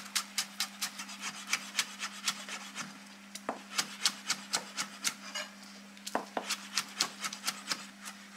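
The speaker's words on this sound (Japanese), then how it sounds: "よし、こんな形状にネギも切りましたと。" A knife slices green onions diagonally on a cutting board, giving a steady run of crisp, close chopping taps for several seconds with no talking.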